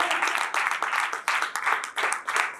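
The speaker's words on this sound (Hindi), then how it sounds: "उसके जलाल के लिए जोरदार तालियां बजाइए।" A church congregation claps loudly in strong, rhythmic bursts, the massed hands falling in a pulsing beat roughly twice a second.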